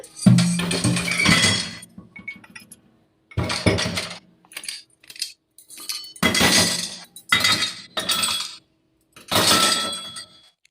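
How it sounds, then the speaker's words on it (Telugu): Cooking pots and dishes being washed in a kitchen make loud, close clinks and clatters in separate bursts of metal and glass knocking together, with brief silent pauses between. "ఈ గిన్నెలను అయితే వాష్ చేసుకొని పెట్టేసుకుంటున్నాను"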